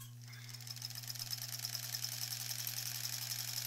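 A sewing machine runs steadily, stitching the seam across the back of a granny-square quilt, its fast rhythmic needle chatter layered over a constant low motor hum.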